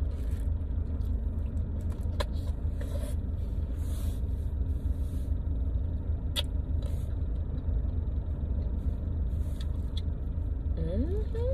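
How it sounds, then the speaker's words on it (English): Steady low rumble of busy highway traffic running alongside a Dairy Queen, with cars passing continuously, occasional scrapes and clinks nearby, and a person talking faintly over it. "this actually sits along a highway, a busy highway"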